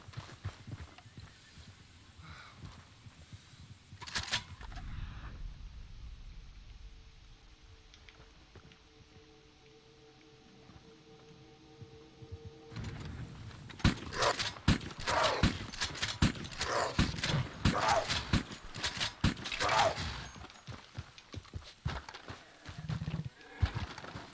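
Horse hooves clip-clop in a video game, first a few scattered thuds over a low ambient hum, then a steady, fairly close run of hoofbeats with some faint muttering.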